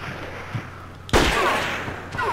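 Gunfire in a shooter video game: a quiet stretch with a faint thump, then a loud, sharp shot at about the middle followed by a dense burst of rattling fire and a later crack, with no voices.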